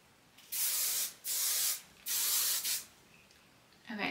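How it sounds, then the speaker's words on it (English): Hairspray from an aerosol can hisses onto hair in three close, steady bursts, each about half a second long, with a brief softer hiss at the end and no talking. "Now I'll take some hairspray and spray it all over."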